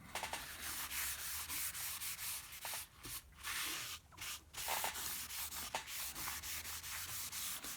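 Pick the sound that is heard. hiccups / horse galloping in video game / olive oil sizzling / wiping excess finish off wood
wiping excess finish off wood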